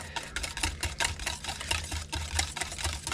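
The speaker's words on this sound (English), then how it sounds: "Whisk it for a little while." A hand whisk beats carrot custard mixture in a bowl, quick regular clicking strokes of wire against the bowl at a brisk, even rhythm, close and fairly loud with no talking.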